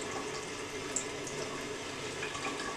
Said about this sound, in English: I'm just gonna rinse it down the drain